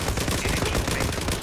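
A brief, dense burst of rapid gunfire from an M468 in the game Zula, loud and close, filling the whole moment with no pauses.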